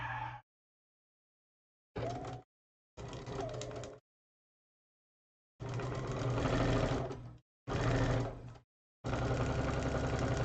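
A sewing machine stitches the final seam of a quilt block in short separate bursts, then longer continuous runs, close and moderately quiet with silent pauses between.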